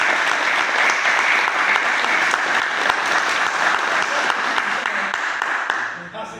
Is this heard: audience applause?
yes